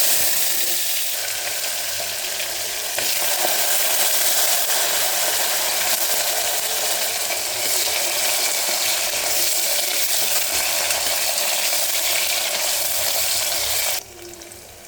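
Eggplant frying in hot oil inside a pressure cooker, a steady broadband sizzle and crackle lasting throughout at moderate loudness, with no talking, dropping away sharply near the end.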